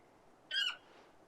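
A bird mount in the video game Final Fantasy XVI lets out a single short, shrill squawk, close and clear, over a quiet background hum.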